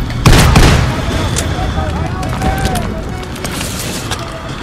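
A grenade blast in the World War II shooter Call of Duty: World at War, a loud deep boom near the start that rumbles off into a noisy battlefield with scattered shots and shouting voices.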